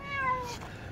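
A cat meows once, loud and close, just after climbing out of a drained backyard swimming pool.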